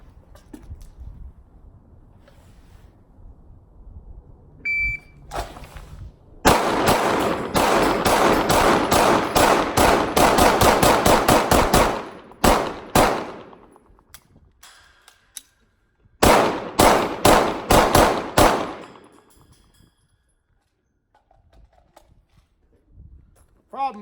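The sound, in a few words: Glock 17c Gen 4 pistol shots at a target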